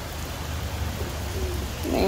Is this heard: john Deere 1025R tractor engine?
no